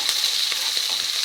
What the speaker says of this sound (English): Let those onions cook through